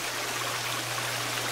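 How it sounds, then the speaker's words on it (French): Waterfall ambience from the video game The Forest: a steady, continuous rush of falling water at low level, with no other sounds on top. "j'ai quand même une belle vue de la cascade sur le côté"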